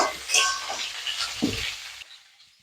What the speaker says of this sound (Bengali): ঝিঙে পটল আলু একসঙ্গে সব কিছু বেড়ে হালকাভাবে তেলের সঙ্গে একটু ভেজে নিলাম